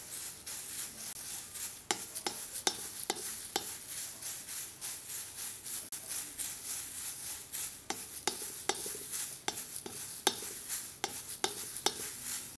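Moringa leaves and curry leaves dry roasting in a pan, with a steady dry hiss broken by frequent sharp scraping strokes of stirring against the metal, close and fairly loud, with no voices.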